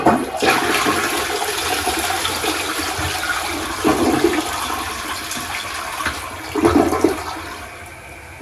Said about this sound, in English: And toilet flushed as designed